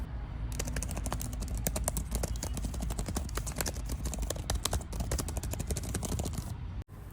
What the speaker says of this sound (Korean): 다음으로 실제 키보드 소리도 한번 들려드리겠습니다.